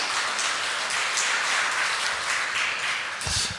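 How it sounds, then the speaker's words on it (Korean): A church congregation at a Korean Sunday worship service claps for the choir after its hymn, a dense, steady patter of many hands filling the room for the whole stretch and easing slightly near the end. "하나님께 은혜로운 찬양을 올려드린 우리 찬양대에게 큰 격려의 박수 부탁드립니다."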